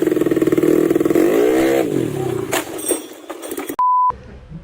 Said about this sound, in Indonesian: Ntar dulu ada suara motor.